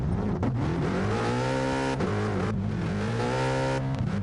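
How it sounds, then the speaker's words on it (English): An Alpine VGT race car in a Gran Turismo-style racing game revs hard and steadily, its engine note climbing through gear changes with brief dips at each shift. The sound is loud and continuous, with no talking. "our Marmite car tonight is an Alpine VGT"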